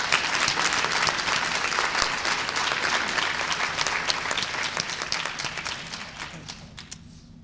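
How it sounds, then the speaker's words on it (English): Sustained applause from an audience at a medical awards ceremony for primary care physicians, dense steady clapping that slowly fades toward the end. "Y'all give them a round of applause,"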